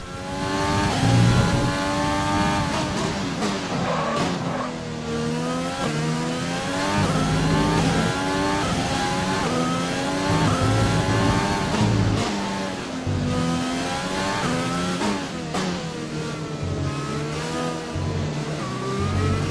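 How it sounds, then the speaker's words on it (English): A Formula 1 car in the F1 2020 video game runs a qualifying lap, its high-pitched engine screaming continuously as it rises and falls through repeated upshifts and downshifts, loud and close. "I'm gonna let you enjoy a little bit some gameplay there, some engine sounds and all that"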